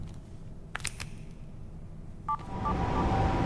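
A telephone being dialed in an anime: scattered clicks, then a short pair of electronic beeps, with a low background hum that swells toward the end.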